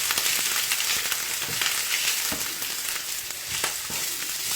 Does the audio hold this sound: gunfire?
no